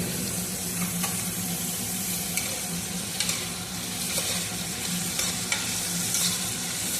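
Potato pieces frying in a pan for a vegetable pulao give off a steady, close sizzle, with occasional scrapes and clinks from stirring and no talking.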